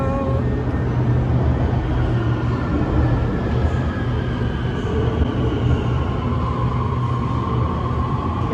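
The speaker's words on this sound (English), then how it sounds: "train's about to enter station" A train rolls into a station with a steady low rumble and a grinding wheel hiss, moderately loud and continuous, and no one speaks.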